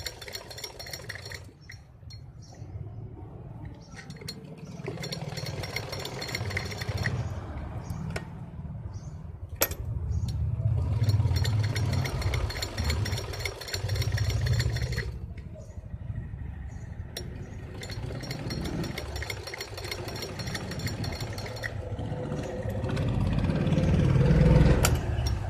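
A sewing machine stitches around a net blouse neckline in several rhythmic bursts of rapid needle clatter, with quiet pauses between runs and a low background hum.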